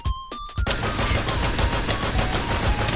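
Thompson gun fire in Minecraft, a short burst then a sustained rapid automatic stream of loud, dense shots running to the end with no pauses.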